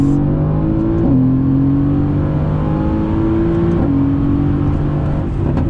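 A powerful Mercedes-Benz AMG GT sports car engine roars steadily under acceleration, with gear shifts audible as brief pitch drops before it climbs again, loud and close.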